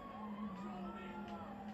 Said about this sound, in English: These fucking police cars are on my ass.